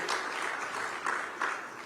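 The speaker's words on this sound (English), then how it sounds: "let's of course give Team ISRO and India as well a huge applause for Chandrayaan-3 success." Applause from a conference audience at a live conclave in Mumbai, a steady spread of clapping heard softly from a distance, with small swells of louder claps.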